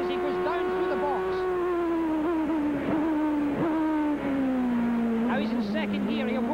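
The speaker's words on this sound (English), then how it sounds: "Now listen to this as he goes down through the box." A 1988 CART race car on the Meadowlands street circuit drops down through its gearbox, the loud close engine note falling in steps with sharp blips between shifts, steady and continuous throughout.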